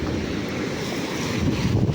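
High ocean waves surge and wash against the shore in a steady roaring rush, mixed with gusty wind buffeting the microphone, continuous and fairly loud, with no talk.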